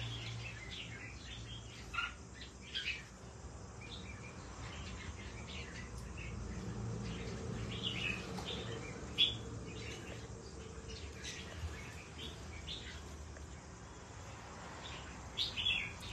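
Several small caged birds chirp in short, scattered bursts over a steady low background hum, fairly faint and spread throughout, with no talking.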